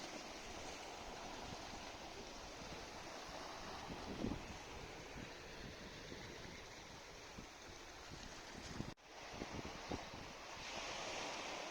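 Ocean surf washes steadily onto a wide beach on Vancouver Island's coast, a continuous broad roar with gusting wind noise and a brief dropout near the end.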